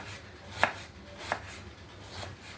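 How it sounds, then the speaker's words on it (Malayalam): A knife slices onions on a board: two crisp, separate strikes about a second apart, then a softer third tap, quiet and close with no talking. "സവാള ഉണക്കുന്നതിനായിട്ട് നമുക്ക് സവാള അരിഞ്ഞെടുക്കാം"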